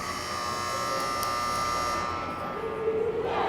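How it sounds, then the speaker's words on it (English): A loud, sustained electronic game buzzer drones steadily for several seconds, steady and harsh, with crowd noise beneath it, at an under-12 hockey game. "So we got the buzzer there with 9-12 to play."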